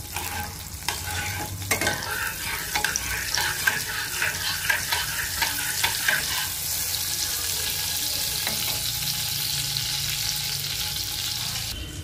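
About a teaspoon of butter melting in hot oil in a wok, with a steady close sizzle. Stirring scrapes and clinks are heard in the first half.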